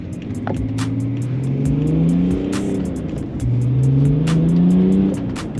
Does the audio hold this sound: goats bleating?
no